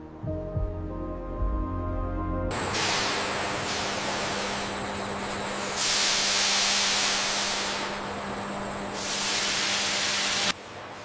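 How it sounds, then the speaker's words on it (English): Irrigation valves spray water across a dragon fruit field, a steady broadband hiss that starts abruptly, swells louder twice, then cuts off near the end, with a low mechanical hum running beneath. "The soil moisture sensors have successfully triggered the secondary irrigation valves"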